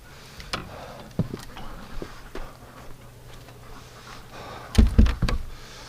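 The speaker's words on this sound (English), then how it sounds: "Oh, the door closes without banging it." A door on a duck house closes gently on a winter evening, with a few soft clicks and taps early on and a cluster of muffled thumps near the end as it settles shut without banging.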